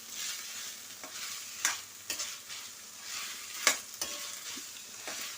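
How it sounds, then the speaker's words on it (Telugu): Onions fry in a pan after ginger-garlic paste for a restaurant-style dahi aloo, with a soft sizzle under several sharp spatula scrapes and taps spaced a second or so apart. Fairly quiet and close, no talking. "ఇప్పుడు ఈ ఉల్లిపాయలు చక్కగా వేగాలండి."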